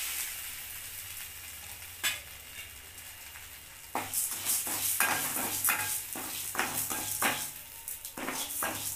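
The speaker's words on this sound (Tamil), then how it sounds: "பருப்பு நல்லா மணம் வர வரைக்கும் நல்லா வறுத்தெடுத்துக்குங்க" Toor dal being dry-roasted in a pan for chutney, a soft steady sizzle broken by a run of rhythmic scraping stirs from a spoon against the pan, close and clear, with no talking.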